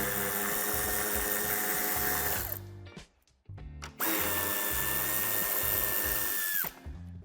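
A power tool whines steadily while backing off two nuts holding the tail light on a BMW 5 Series G31 Touring, running in two long bursts separated by a brief pause and clicks.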